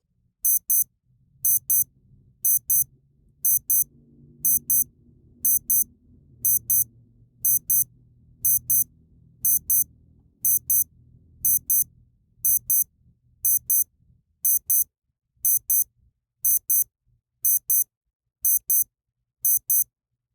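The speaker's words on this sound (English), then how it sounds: "point the microphone at the watch and let you hear how the alarm sounds" A Freestyle Shark Clip digital watch alarm beeps in quick high-pitched pairs, repeating steadily about once a second for twenty seconds, with faint low rumbling underneath.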